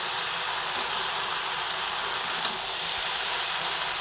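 Steady, dense sizzling of okra (bhindi) frying in a pan, loud and close, continuing evenly with one faint tap partway through.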